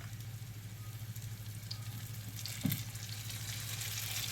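Ginger and garlic frying with onion in a little oil, a steady close sizzle with a brief clink partway through and no talking.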